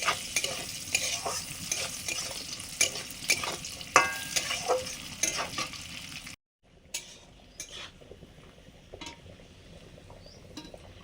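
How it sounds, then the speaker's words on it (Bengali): Close-up frying and stirring in a pan: crackling sizzle of coconut frying with spoon scrapes and clinks, a brief silence, then softer sizzling of cashews and raisins and occasional taps. "নারকেলটা একটু ভাজা হলে তবে কাজু কিশমিশটা দেবো"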